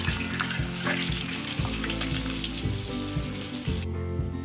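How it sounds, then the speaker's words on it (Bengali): Eggs frying in oil, seasoned with turmeric, for a Bengali egg curry, with a dense, steady close sizzle, light stirring clatter and low background hum that drops away near the end, with no talking. "ডিম ভাজা হয়ে গেছে।"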